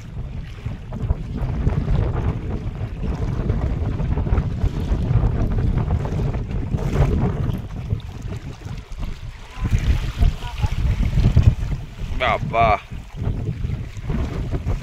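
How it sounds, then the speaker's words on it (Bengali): Wind and waves buffet a rowing boat on a Sundarban river at high spring tide, a continuous gusty roar with slapping water close around the hull and brief voices over it. "যেমন হাওয়া তেমন ঢেউ।"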